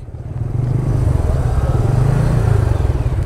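Steady, loud engine rumble from two Suzuki Gixxer SF motorcycles idling at the Kalna bridge toll plaza, a close, continuous drone with no break.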